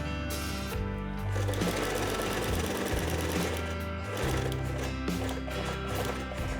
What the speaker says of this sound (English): Next, I lay the quilted piece on top and sew everything from the lining side.